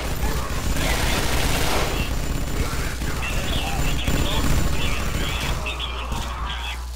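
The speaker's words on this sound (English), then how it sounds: "Getting shot by combine turrets, are we?" Combine turrets fire in the game SMOD Outbreak, a dense, sustained rattle of automatic gunfire that runs loud throughout, with bursts of other game noise and voices layered over it.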